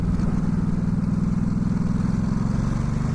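A Ducati Supersport 950S motorcycle accelerating at half throttle in third gear, its engine giving a loud, steady, throaty drone with a pulsing rumble heard from close to the rider, with no voices.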